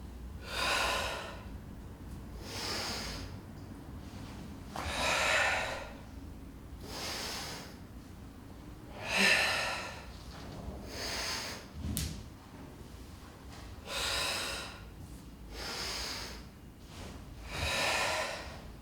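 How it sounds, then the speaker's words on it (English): Rhythmic, close breaths accompany a Pilates rolling exercise in a skatepark, about eight distinct inhales and exhales in steady cycles, with one sharp knock partway through and no talking. "So we exhale while we're rolling. And we inhale while we're reaching."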